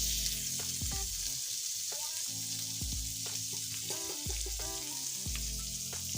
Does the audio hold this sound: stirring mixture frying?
yes